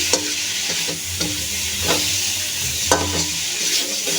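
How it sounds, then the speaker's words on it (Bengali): Spice paste for a cauliflower curry sautéing over a medium flame, with a loud, steady, close sizzle and a spatula scraping and stirring in irregular strokes through it, no talk. "ভালো করে মশলাটা কষিয়ে নেব।"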